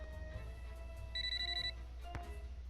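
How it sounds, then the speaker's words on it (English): A mobile phone rings with a steady electronic tone over low background hum, a single burst of ringing lasting about half a second, followed by a sharp click. "did you hear my phone go"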